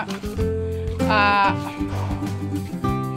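A goat bleats with a wavering, nasal cry in a backyard, a couple of calls at moderate distance, with some background noise between them.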